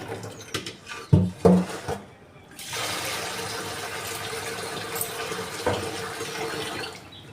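Running water from a tap pours steadily for several seconds while soaked moong and chana dal are washed by hand, after a few brief knocks and clatters at the start.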